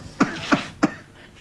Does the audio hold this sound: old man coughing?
yes